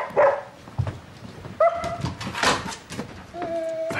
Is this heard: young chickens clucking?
no